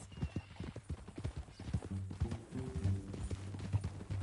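Horse hooves clip-clopping in Red Dead Redemption 2, a steady walking rhythm under a low engine-like drone and ambient game noise, with a faint whinny.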